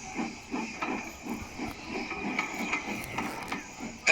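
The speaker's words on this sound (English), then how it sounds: "James collected his passengers and respectfully puffed away." A cartoon steam engine puffs away from a station with passengers aboard, giving off rhythmic chuffs of steam with a steady hiss underneath, moderately loud and close, with no talking.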